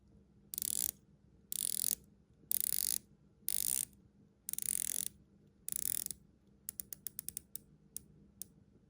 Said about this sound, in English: One of the mandatory things we do around here is to test the bezel action.